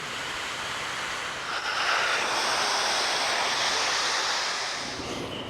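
Garden plants being watered with a steady hiss of spray washing over leaves and soil, continuous and fairly loud, swelling slightly in the middle before easing off.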